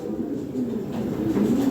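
Pigeons of European racing and Lahore bloodlines coo in a low, steady series of throaty calls, fairly close and continuous throughout.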